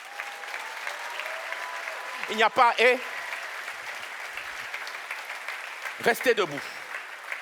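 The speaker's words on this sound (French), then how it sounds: "Nous pouvons les applaudir." An audience applauds fathers asked to stand at a Ze Rencontre gathering: a steady, moderate wash of clapping runs throughout, while a voice speaks briefly over it twice.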